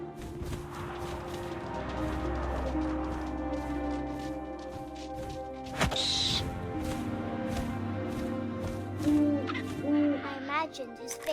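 An owl hoots over wind and ambient game music in What Remains of Edith Finch, with crow-like caws and a sudden rustling burst midway, while a voice narrates throughout.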